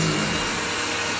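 A vacuum cleaner runs on carpet during an end-of-tenancy clean, a loud, even, close-up roar that holds steady throughout.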